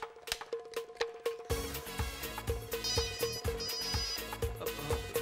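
A phone ringtone plays as a repeating melodic tune, loud and close, going unanswered while music swells beneath it; no voices are heard.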